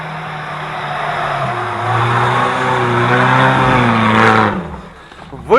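A UAZ off-road vehicle fitted with T-40 tractor reduction gears accelerating downhill, a loud, close, rising engine drone that climbs in pitch, then cuts off abruptly near the end.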